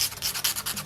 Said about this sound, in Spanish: Si es necesario puedes lijar un poco.